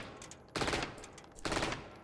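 Bursts of automatic weapon fire from the Valorant shooter game, two loud broadband volleys about a second apart, each lasting a few tenths of a second over a quiet background.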